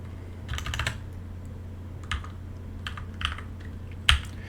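Bash commands are typed on a computer keyboard in short bursts of clicking keystrokes, several quick clusters separated by pauses, close and clear in an otherwise quiet room.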